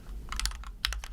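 Several quick keystrokes on a computer keyboard in two short bursts, close and fairly quiet over a low steady hum, with no talking.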